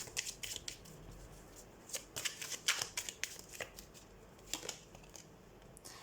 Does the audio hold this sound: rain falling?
no